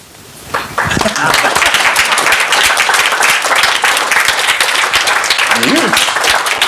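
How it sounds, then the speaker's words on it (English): An audience breaks into sustained applause, a dense roar of many hands clapping that begins abruptly and continues loudly to the end. "Let me hear by applauding."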